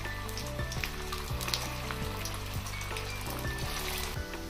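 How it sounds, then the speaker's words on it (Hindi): Green pea vadas deep frying in hot oil over medium heat, a dense continuous bubbling sizzle with faint tapping and low background hum throughout. "इसके अंदर हम वड़े डालेंगे, जितना आसानी से आ जाए पैन में उतना डालेंगे।"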